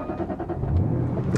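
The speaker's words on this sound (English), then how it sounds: "Keyless start, as you would expect." A Jaguar XK GT car's engine fires up with a keyless start, a brief close crank catching into a steady idle rumble.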